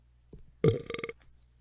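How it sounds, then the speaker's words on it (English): A pet in the Well of Souls video game lets out a single short, throaty burp after a faint lead-in sound, close and clear with no talk. "And you heard it burp? That means it's full."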